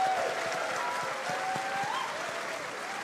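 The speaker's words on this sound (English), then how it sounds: "We're going to give a little round of applause for our character artists here as well who made them come to life." A live convention audience at a gaming event applauds character artists, a dense, steady wash of clapping and crowd noise filling the hall for about three seconds.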